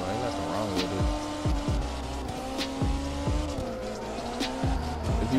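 Tire squeal and a revving engine from a drifting Nissan S15 Silvia Specter RS in the racing game CarX Drift Racing Online, with repeated sliding screeches and gear shifts as the engine climbs and drops rhythmically.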